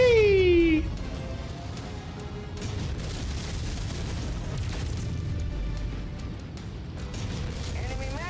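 An enemy mech blows up when destroyed in the video game MechWarrior 5: Rise of Rasalhague, a loud boom followed by a sustained rumbling, crackling roar with mechanical clatter, and a synthetic voice announces something over it.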